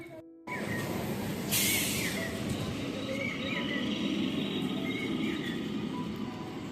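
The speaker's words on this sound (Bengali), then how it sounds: "ট্রেন ঢুকবে" Low, continuous rumble of a train pulling into a station, with a sudden sharp hiss of brakes and faint birds chirping in the background.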